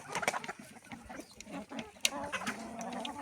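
Large farmyard chickens clucking in short, irregular bursts close by while feeding, with scattered scratching and shuffling sounds in the background.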